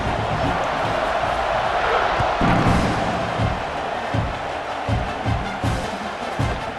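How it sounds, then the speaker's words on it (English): Stadium crowd in EA Sports College Football 26 roaring steadily as a kickoff approaches, a dense continuous wall of cheering with thuds and claps beneath, while a commentator talks over it. "this crowd now ready to get behind them"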